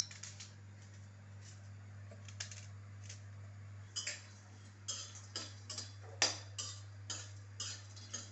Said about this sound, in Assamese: পিঁয়াজটো এনেকৈ কাটি লওঁ।